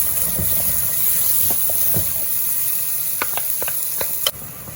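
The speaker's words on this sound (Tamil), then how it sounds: "இஞ்சி பூண்டு உள்ளது போடுவோம் போட்டு வடிவாக கிளறி விடுவோம்" Ginger garlic paste sizzles and fries with softened onions for a rooster biryani curry, a steady close hiss broken by scraping stirs and clinks of the spoon against the pan, one sharp knock near the end.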